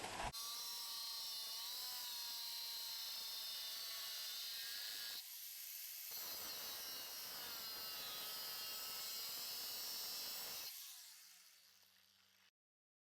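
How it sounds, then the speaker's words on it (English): An angle grinder fitted with a thin cut-off blade grinds and tidies the edges of a metal bracket during an LS1 turbo build, a loud continuous high-pitched whine with two brief pauses before spinning down near the end. "Tidy up all the edges with the grinder."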